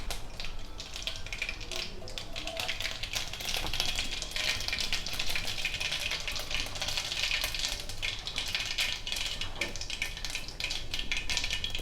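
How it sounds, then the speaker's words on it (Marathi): Mustard seeds crackle and pop in hot oil in a pan, a dense, close and continuous spatter of sharp little snaps, steady throughout without any talking. "मोहरी छान तरतरली की जिरे टाकू"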